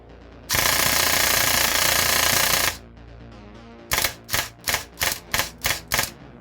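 A modified airsoft AK rifle with a standard motor, no MOSFET and no cut-off lever fires close and loud, first one sustained buzzing full-auto burst lasting about two seconds, then a run of six or seven quick short bursts.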